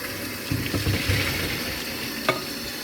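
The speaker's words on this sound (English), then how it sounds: "So this is gonna be my first rinse with the mushrooms." Tap water runs and splashes over mushrooms being rinsed in a pot, a soft, steady wash broken by a few light knocks and rustles as they are moved about.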